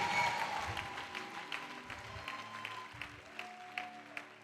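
Church congregation clapping during a sermon, a burst of applause that starts full and thins into scattered claps, with faint voices mixed in.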